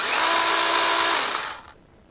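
Chainsaw running near and loud at a steady high pitch during a product demonstration, then cutting off abruptly as the trigger is released, leaving near silence for the last half second.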